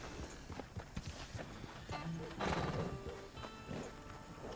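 A horse at a live event moves with clip-clopping hooves and lets out a whinny partway through, with faint background voices and ambient noise.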